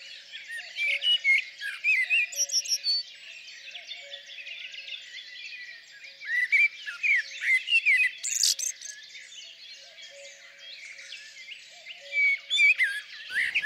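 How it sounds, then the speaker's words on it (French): Small birds sing and chirp continuously in a garden, bright overlapping twittering with louder bursts of song, no voices. "Les oiseaux se préparent aussi à leur future nidification."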